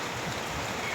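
Heavy rain pours steadily during a days-long downpour on a rainy morning, a dense, constant wash of noise through the whole second with no voices.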